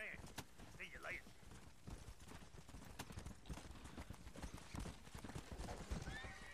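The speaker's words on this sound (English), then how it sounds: "Come on, boy. My horse." Horse in the Red Dead Redemption video game, steady clip-clop of hooves with a couple of whinnies and neighs over faint game ambience.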